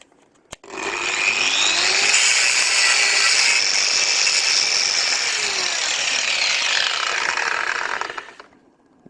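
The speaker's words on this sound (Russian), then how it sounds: "Вот эту голову срезаем болгаркой." An angle grinder cuts off the head of a cable fitting, spinning up after a short click into a loud, steady, harsh screech that holds for several seconds before winding down.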